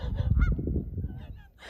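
A lone goose honks loudly at close range, a few harsh nasal calls clustered early, then quieter, with no talk.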